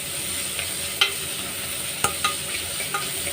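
Onions salted and sautéing in a pan sizzle steadily while a spoon stirs them, with several sharp scraping knocks against the pan over the continuous frying hiss; no voices.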